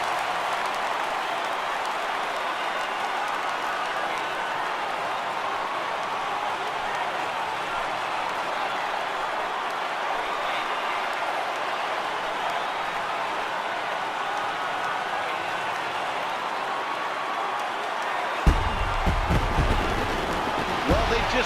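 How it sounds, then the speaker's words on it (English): Stadium crowd roaring in MLB The Show 18 as the home team clinches the World Series, a steady dense cheer filling the whole stretch with a few sharper bursts near the end. "this stadium is rocking right now as they celebrate something they'll remember forever."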